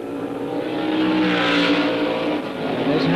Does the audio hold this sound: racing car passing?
yes